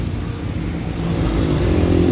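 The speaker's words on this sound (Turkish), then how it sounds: "aracımız da şu an DPF temizliği için şu an rölantiye aldı" Ford Focus TDCi diesel engine idling during DPF regeneration, a steady low rumble that swells slightly louder toward the end, heard alone and close.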